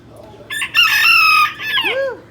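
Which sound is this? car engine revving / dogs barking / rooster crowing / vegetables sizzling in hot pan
rooster crowing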